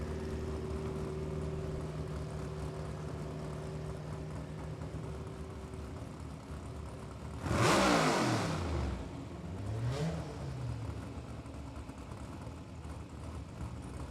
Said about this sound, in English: Four-cylinder Honda on the left side